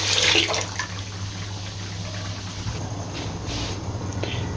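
Water, 750 ml, poured into a pan of 750 g of sugar to make syrup for bread gulab jamun, a steady close rushing pour that starts loud and tapers into a softer flow.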